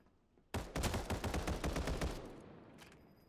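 A rapid, close burst of gunfire from Final Fantasy VII: First Soldier rattles off for about two seconds, then rings away into a short tail.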